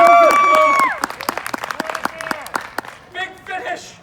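An audience at a Renaissance festival comedy show claps in scattered, sharp bursts beneath a performer's loud vocal whoops and talking, with the clapping thinning out toward the end.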